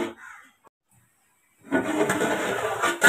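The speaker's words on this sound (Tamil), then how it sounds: "தண்ணி நல்லா கொதிக்குது." Water boils in a covered pot for kushka rice; near silence at first, then a steady close bubbling hiss rises and holds to the end.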